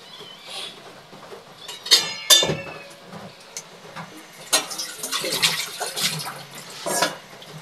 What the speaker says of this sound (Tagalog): Hugas muna dito sa gripo.